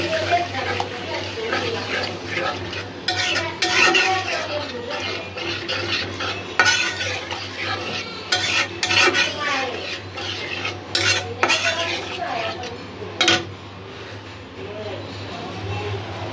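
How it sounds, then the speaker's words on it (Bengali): A spoon scrapes and stirs sizzling spice masala with garlic paste and blended chili in a pan for beef liver curry, rhythmic clinks and scraping over a steady fry, with occasional speech mixed in. "খুব সুন্দর করে মশলাটা কষাইলে আর একটু মরিচ লাগবে"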